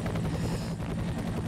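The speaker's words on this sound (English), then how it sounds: "Sounds a whole lot like a chopper." A helicopter in the video game F.E.A.R. whirs steadily and loudly throughout, its rotor chop a continuous drone with no talk over it.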